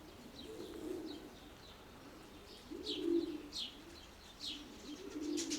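Pigeons coo in a dovecote, soft repeated low coos rising in several bouts over faint background chirps, quiet and fairly close.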